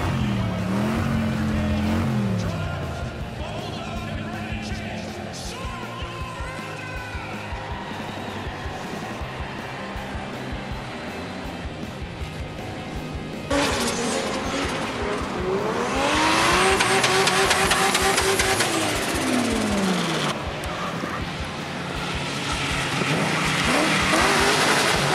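Cartoon monster trucks race with revving engines, skidding tires and swooping pitch sweeps, loud and busy over a music bed, building to a louder burst of motor roar and screeching in the second half.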